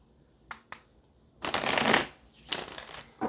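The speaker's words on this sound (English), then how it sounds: "Let's get one more shuffle here" Tarot cards are handled and shuffled close up: two quick taps, then a long riffling flurry and a second shorter burst of shuffling, with no one speaking.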